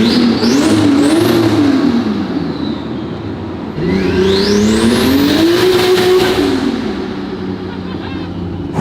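A 1970 Lada car engine revs hard and loud, pitch climbing and falling through two bursts of acceleration, with a rough throaty rasp and no talking.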